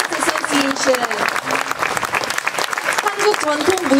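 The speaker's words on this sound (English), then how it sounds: "can we give another round of big applause to the ladies of San Diego Korean Traditional Dance Association" Audience applauding the ladies of the San Diego Korean Traditional Dance Association at a House of Korea event, a sustained round of clapping with some voices and cheers mixed in.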